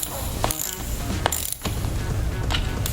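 A ratchet clicks in quick bursts as bolts are snugged down while a steel MET-XT powerlifting bench is assembled. The pawl's ticking sounds close and fairly loud, broken by brief pauses.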